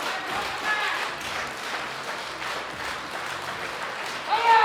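Crowd at a European equipped powerlifting championship cheers and applauds steadily through a gold medalist's 322.5 kg deadlift attempt, a continuous broad roar that swells louder at the very end.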